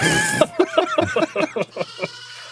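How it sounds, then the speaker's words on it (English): Goats bleat in a rapid string of short, wavering cries, close and loud, about eight calls tumbling one after another with brief gaps between them. "Those fucking goats."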